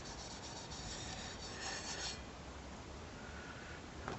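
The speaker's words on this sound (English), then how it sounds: "Rub over lemon juice." Lemon juice being rubbed over chicken at a camp stove, a soft, steady close scuffing and rubbing texture with no talk.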